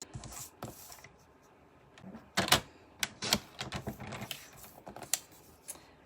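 Paper trimmer slicing a sheet of gold striped cardstock, giving a few sharp, close scraping cuts and clicks with quiet handling sounds between them.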